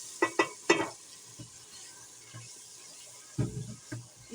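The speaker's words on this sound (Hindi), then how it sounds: "4 टेबल स्पून हम अदरक लहसुन ले लेंगे, ये भी भून लेंगे इसके साथ ही" Ginger garlic paste with ground tomatoes and green chillies frying in a pot for aloo chole, with a few sharp stirring clatters and bursts of sizzle, a quiet gap, then another stir and sizzle.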